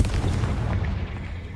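A brief, loud, low booming blast from a Confringo spell in Hogwarts Legacy, with a thick rumble that holds steady and slowly fades over about a second and a half.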